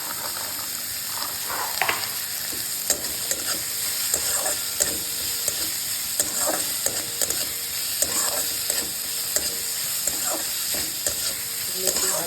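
Leftover cooked rice fries in a pan with a steady close sizzle and hiss, punctuated by repeated scraping and clinking stir strokes of a spatula, with no talking.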